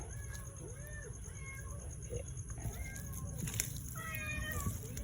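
Several cats meow in short rising and falling calls scattered over a steady background hum, moderately faint.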